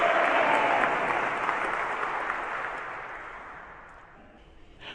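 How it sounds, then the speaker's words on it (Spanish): A church congregation claps in a dense, continuous wash of applause that starts loud and slowly fades toward the end, with no talking over it. "Démosle un aplauso al Señor"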